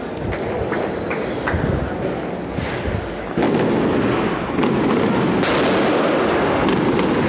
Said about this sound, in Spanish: Seguimos en ambiente de fuegos artificiales